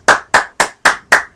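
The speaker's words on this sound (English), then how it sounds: "Clapping sounds." Five sharp hand claps in an even, quick rhythm, loud and close, with no voices during a Black Ops 2 online matchmaking rant.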